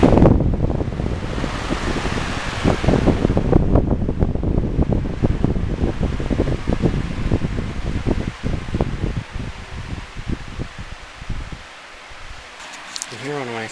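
A classic 16-inch pedestal fan runs on its high setting with a loose foot peg rattling, giving a breathy, wind-like whoosh dotted with irregular clicks and rattles that thin out near the end.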